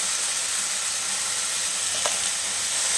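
Gandhal leaves and a ground paste fry in a pan, giving a constant, even sizzle close by with one brief click partway through.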